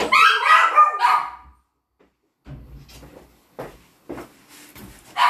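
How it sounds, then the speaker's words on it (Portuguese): Dogs barking downstairs in a house, heard through a closed door: a loud burst of barks at the start, then quieter, muffled barks and movement after a short pause. "enquanto estiver tocando lá embaixo, eles não param de latir"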